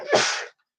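One short, sharp sneeze, close and abrupt, ending in silence.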